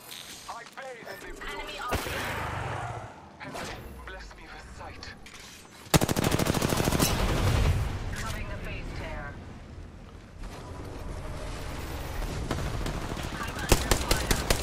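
Rapid automatic gunfire in the battle royale shooter Apex Legends, loud bursts and sustained volleys with a sharp surge midway, over game sound effects and a player talking.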